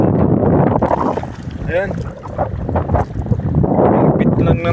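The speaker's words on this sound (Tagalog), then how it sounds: "medyo lumakas na yung hangin" Strong wind roaring across the microphone on a small fishing boat at sea in the late afternoon, a continuous loud rushing with gusts, while someone speaks briefly over it.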